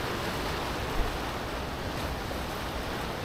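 Rough sea surf on the coast at Heda's Mihama Cape sandspit in West Izu, a continuous broad roar of breaking waves with wind noise, steady and fairly loud with no talk.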